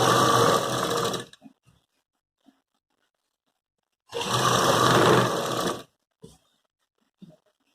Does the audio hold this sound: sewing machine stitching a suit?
yes